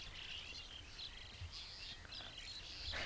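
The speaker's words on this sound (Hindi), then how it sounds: "आराम करते करते पंछियों के चहचहाहट" Birds chirp and tweet continuously in the background in a mountain village in the Chambal valley, India, with high, busy calls layered over a steady low outdoor hum; no voices.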